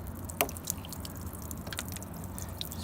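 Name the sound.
water draining out of a car door drain hole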